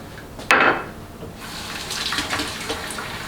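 Tap water splashes into a kitchen sink during hand washing, starting with a sharp gush and settling into a softer steady run at close range, with no talking.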